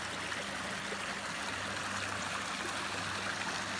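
Steady rushing of a stream flowing close by, a continuous broadband wash of water with no voices.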